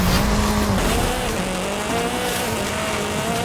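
An Exocet racing in Forza Horizon 5, its engine revving loud and close with rising and falling pitch as it shifts, and tires squealing under it, with no talk.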